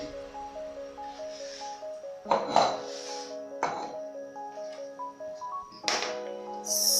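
Dishes and utensils are cleared off a kitchen counter during cabbage and carrot salad preparation, a few sharp clattering knocks spaced out over steady background music.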